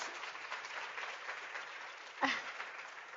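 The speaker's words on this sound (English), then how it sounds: "he's clapping." Applause at an academic research exposition, with steady broadband clapping from an audience running throughout, plus one louder, sharper clap near the end.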